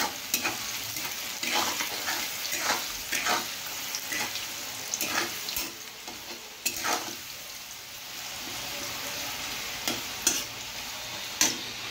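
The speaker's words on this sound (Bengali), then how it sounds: "মটরশুঁটি, বিনস, ফুলকপি, গাজর, কাজু কিশমিশ সবই ভেজে যাবে।" Peas, beans, cauliflower, carrot, cashews and raisins sizzle steadily in hot oil in a pan, with repeated sharp scraping and stirring strokes over a continuous frying hiss.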